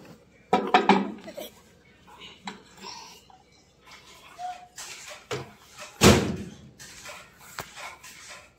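A microwave oven door shuts in a home kitchen with a sharp slam, then a second firm thud follows a few seconds later, among lighter clatter and background movement.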